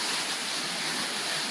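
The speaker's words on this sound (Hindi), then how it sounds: "so we have just reach the waterfall now" Waterfall at a Bali rice terrace, a steady broadband rush of falling water, close and loud without pause, no talking.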